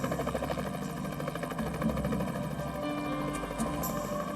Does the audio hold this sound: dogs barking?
no